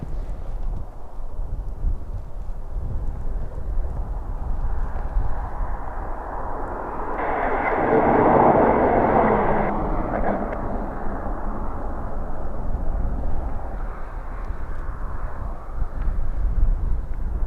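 Slovak Airlines A319 jet at Dublin Airport, its engine roar building out of strong wind rumble to a broad peak midway, then fading back into gusty microphone wind noise.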